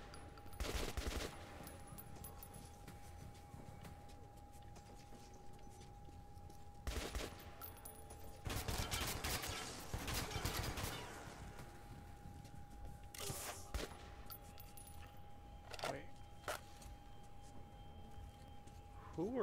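Gunfire in the Metro 2033 shooter comes in several bursts of rapid automatic shots spread across a quiet, humming background.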